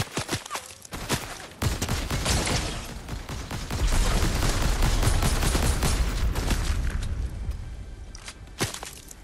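Fortnite gunfire starts with scattered sharp shots, swells into a loud, dense stretch of continuous firing, then thins back to a few isolated cracks near the end.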